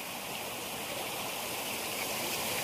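Water spills down a series of small waterfalls on a steep uphill stretch during rain, a steady, close, full-bodied rush that holds evenly with no voices.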